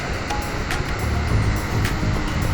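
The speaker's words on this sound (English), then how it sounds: "Great sets of waves coming in." Ocean waves roll and break on Lighthouse Beach at Port Macquarie, a steady, moderately loud wash with low rumbling surf and some wind, with no talking.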